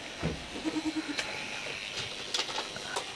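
Goats on a farm bleating in a quick run of short, wavering calls near the start, followed by scattered rustling and brief animal noises, with no talking.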